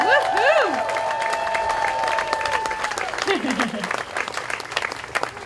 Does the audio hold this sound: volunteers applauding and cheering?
yes